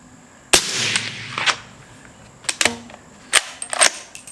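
A Henry Supreme .300 BLK rifle fires subsonic Federal rounds: about six sharp, fairly subdued shots, some spaced apart and a couple in quick pairs, each with a short decay and nobody talking.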